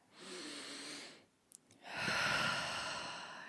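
A slow, deep breath in and out, two long breathy swells split by a short pause with a couple of faint clicks, close and quiet with no talk.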